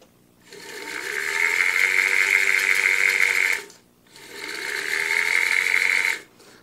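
A vacuum cleaner motor powered from a laptop adapter whines steadily in two long runs, each spinning up and cutting off with a brief pause between, a loud close electric hum.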